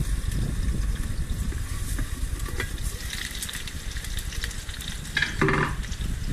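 Chicken sizzles and crackles steadily in a hot pan, with brief stirring clatter and a louder burst of spatter near the end; no one speaks.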